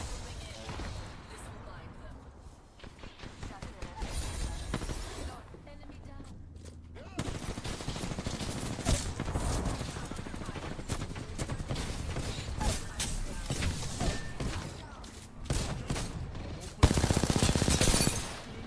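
Gunfire from the Kraber sniper rifle in the battle-royale game Apex Legends, with sharp shots cutting through a busy, dense mix of game noise and talk over a long stretch.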